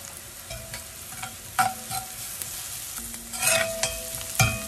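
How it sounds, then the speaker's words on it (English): Chopped ginger sautéing over a high flame for a roasted eggplant dish, with a steady close sizzle broken by several sharp spatula scrapes and stirring clatters, and no talking. "the flame is still high, and we're sauteing it really well"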